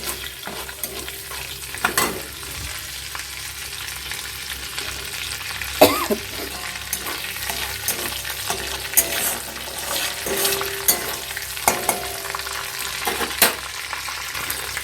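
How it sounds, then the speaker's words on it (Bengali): Whole black peppercorns with cardamom and cinnamon are stirred in hot oil in a pan, giving a steady sizzle broken by repeated scrapes and taps of the spoon, with no talking. "গোটা গোলমরিচ এবার এটাকে একটু নেড়ে চেড়ে নেবো"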